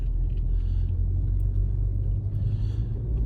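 Car driving carefully through a busy snowy intersection, heard from inside as a loud continuous low engine and road rumble, steady and unbroken, with no talk.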